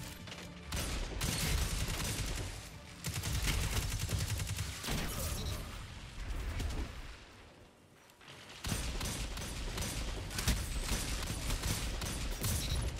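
Rapid hand cannon gunshots in Destiny 2 PvP on PC, a dense run of sharp cracks nearly nonstop across the clip with one brief lull, loud and close.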